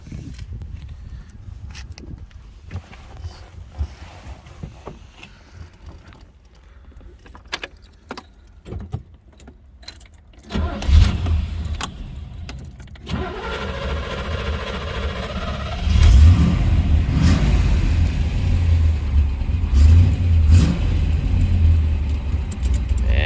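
Keys jangle and handling sounds come first, then a restored 1964 Corvette roadster's 327 L76 V8 fires up and rumbles loudly and close, with revving swells to a heavy lumpy idle, and no talking.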